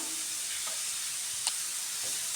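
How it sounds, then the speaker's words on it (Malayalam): Egg roast masala sizzles softly in a frying pan with a steady, faint hiss, broken by a few light scrapes of stirring. "ഇനി അതെല്ലാം കൂടെ ഒന്ന് മിക്സ് ചെയ്ത് കൊടുക്കാം"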